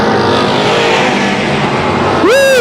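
Pro stock race cars roar loudly around Tucson Speedway, a continuous dense engine drone with a rising whine as one car passes close at the end.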